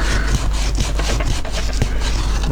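Sandpaper rubbed around the inside of a cut-out circle in a template for an ammeter or voltmeter, close and loud, with quick rhythmic back-and-forth scratching strokes.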